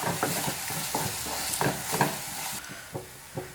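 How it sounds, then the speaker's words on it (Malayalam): Ground masala paste stirred in a frying pan for an Easter chicken curry, with repeated close scraping strokes of the spoon over a soft sizzle, no voices. "നന്നായിട്ടൊന്ന് മിക്സ് ചെയ്ത് കൊടുക്കാം"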